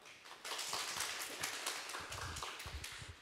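Audience applause at a local self-governance forum in Gwangmyeong, a short burst of dense clapping lasting a few seconds, moderately distant and fairly quiet.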